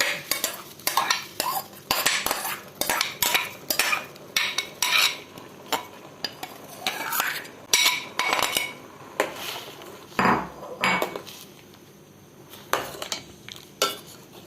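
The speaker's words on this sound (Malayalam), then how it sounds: "ഇതിലേക്ക് ഈ അരപ്പ് ഒഴിച്ചു കൊടുക്കാം" Ground coconut paste is poured into pineapple pulissery in a pot and stirred, a spoon repeatedly scraping and clinking against the metal in a steady, close, loud rhythm.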